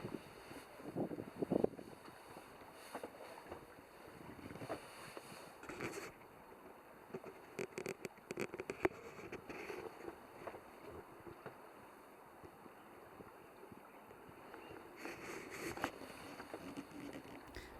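Rain falls on a sailing boat under sail with the engine off: a soft, steady patter and wash of water, with gusts of wind buffeting the microphone and occasional creaks and knocks aboard.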